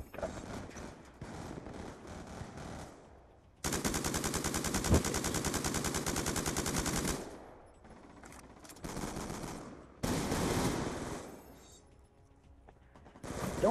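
Black Ops 2 gun game gunfire: long bursts of rapid automatic fire alternating with shorter volleys and brief pauses, sharp mechanical clatter throughout, fairly quiet overall.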